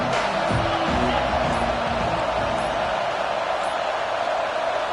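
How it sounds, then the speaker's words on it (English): A large stadium crowd in a college football video game roars in a steady, loud wash of noise, with a few scattered voices standing out near the start. "This crowd bringing the energy and noise early."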